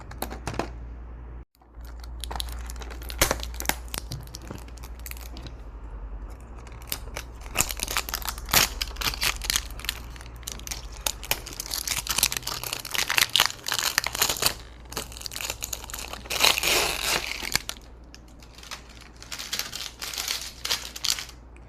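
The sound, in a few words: unboxing a toy, crinkling packaging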